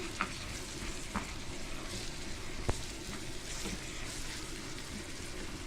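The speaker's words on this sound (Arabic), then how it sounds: "حطيت الخلطه بتاعتي اهي اهي، نشوحها مع بعض كده." Chopped meat and a strained spice mix sauté in a pan for an Egyptian oven-baked meat and onion tagine, giving a steady, close sizzle with a few faint clicks of a stirring utensil.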